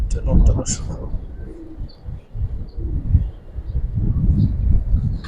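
Giribaz pigeons cooing in a loft, a series of low soft coos repeating under close conversational speech.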